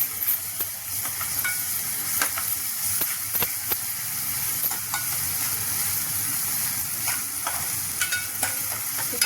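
Ginger garlic paste frying with browned onions for mung dal amti, a continuous crackling sizzle punctuated by sharp spoon scrapes and clicks against the pan, close and moderately loud.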